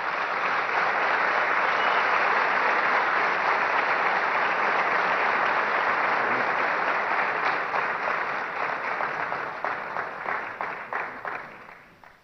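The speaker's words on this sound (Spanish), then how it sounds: "les ruego un fuerte aplauso para ellos" An audience at a 2015 presidential candidates' forum in Antigua breaks into sustained applause, a dense wash of clapping that holds steady and then thins into scattered claps and fades out.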